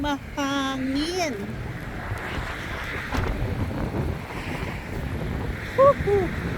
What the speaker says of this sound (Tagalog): Ay, sobrang hangin, guys.